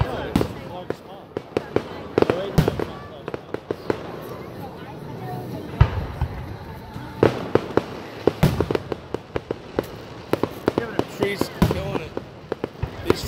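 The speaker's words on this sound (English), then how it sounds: "Nice fireworks you brought us here." Fireworks burst repeatedly at a Fourth of July display in Walpole, Massachusetts, sharp cracks and booms arriving in irregular clusters throughout, fairly close and loud, with people talking underneath.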